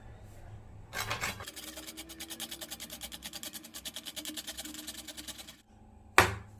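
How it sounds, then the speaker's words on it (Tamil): Coconut is grated finely by hand for a juice recipe, giving a long run of quick, even rasping strokes close to the microphone, bracketed by louder knocks at the start and finish. "இந்த தேங்காவை நான் நல்லா சீவி பொடிசாக சீவி வச்சுக்கிறேன்."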